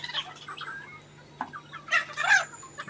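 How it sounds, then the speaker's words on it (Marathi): Native village chickens on a low-cost backyard poultry farm in Konkan, Maharashtra, cluck in short, scattered bursts, soft at first and then a louder cluster of calls near the end, against quiet surroundings. "प्युअर गावठी कोंबडी आहेत सध्या आमच्याकडे"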